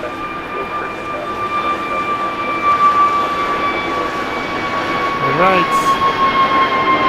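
A Delta airliner takes off from runway 6 right at Los Angeles International Airport in stormy November weather, its engines a steady, fairly loud roar with a high whine throughout, while a voice speaks briefly near the end.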